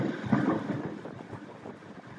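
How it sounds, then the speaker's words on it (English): Very strong wind buffets an outdoor building site in Blackpool near the tower, a loud, low, gusting roar battering the microphone with uneven rumbling surges. "The wind is very, very strong indeed"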